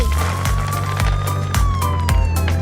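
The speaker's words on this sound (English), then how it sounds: "Purple police car." A police car siren wails with a slowly rising and falling tone over a steady, rhythmic low thumping beat of a children's nursery rhyme, loud and close.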